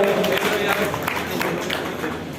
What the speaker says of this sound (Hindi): तालियों की गड़गड़ाहट से इनका स्वागत अभिनंदन करते रहे